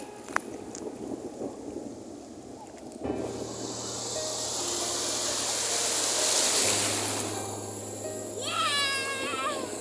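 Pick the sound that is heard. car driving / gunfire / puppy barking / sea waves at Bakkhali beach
sea waves at Bakkhali beach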